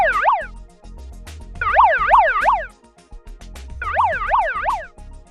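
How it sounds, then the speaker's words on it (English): Building evacuation alarm siren sounding in loud, repeated bursts of rapidly rising and falling electronic tones, separated by short gaps, with no voices. "The evacuation alarm sounds like this."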